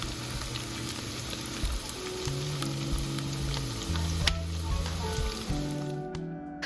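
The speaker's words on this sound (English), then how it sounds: "I warmed up some oil, and I'm just going to go ahead and place them in the skillet to cook." Food sizzles and crackles steadily in hot oil in a skillet, a continuous close frying hiss with no voices.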